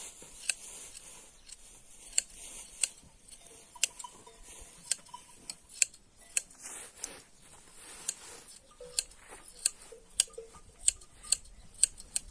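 Hand shears clip sheep wool with repeated snips at a slow, uneven pace, each sharp metallic click distinct against a quiet background.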